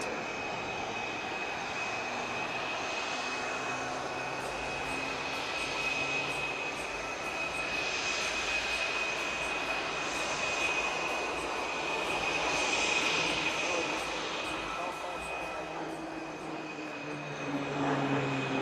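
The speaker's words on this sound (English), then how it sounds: "He will now start another loop and repeat the maneuver to complete the other half of horizontal 8." At the Aero India 2025 air show at Yelahanka Air Force Station, an aircraft flying a looping horizontal figure-eight sends a continuous engine roar that swells and fades as it passes, distant yet strong.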